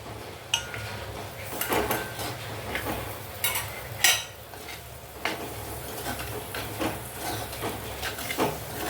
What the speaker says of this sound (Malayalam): തക്കാളി ഒന്ന് വഴറ്റിയ ശേഷം ഞാൻ എടുത്ത് വെച്ചിരിക്കുന്ന കായം ഇടാം.